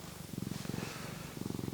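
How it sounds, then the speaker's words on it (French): Figaro the cat purrs softly up close, a steady low rumbling rhythm of quick pulses that swells and eases with each breath, faint and alone with no voices. "Oh le ronron. ASMR chat."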